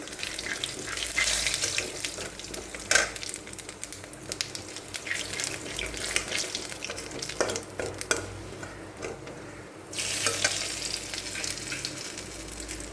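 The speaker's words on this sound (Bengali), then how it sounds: "এখন একটুখানি জিরে ফোড়ন দেব, গোটা জিরে।" Whole cumin seeds sizzle in hot oil in a scorched wok, a loud close crackling fry with stirring scrapes and a brief lull partway through, with no talk.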